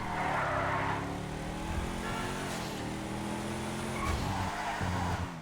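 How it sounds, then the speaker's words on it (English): A tuned Brawler off-roader from GTA 5 Online, fitted with engine upgrades and a turbo, runs with a loud, steady engine roar and some tire-like squealing, with surges in intensity throughout and no talking. "first thing I'm going to do with this car is let you hear the engine"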